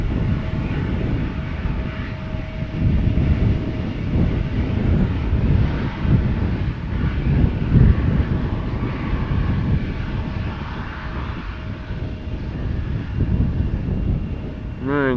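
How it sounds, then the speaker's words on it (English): An Embraer 175 jet taxis at Amsterdam Schiphol Airport, giving a steady, loud, low engine rumble that stays constant throughout, with some wind buffeting on the microphone. "Right, this Embraer 175 will be going to the threshold."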